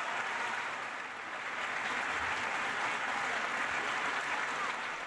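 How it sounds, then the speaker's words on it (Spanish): A closed ovation fills the Teatro Colón in central Bogotá, celebrating the signing of a new government–FARC accord: dense, continuous applause from a large seated audience, steady and full throughout with no gaps. "Con esta cerrada ovación, los asistentes al Teatro Colón en el centro de Bogotá celebraron la firma del nuevo acuerdo"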